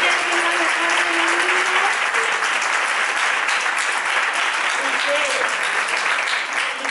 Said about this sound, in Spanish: Un aplauso para tu mujer.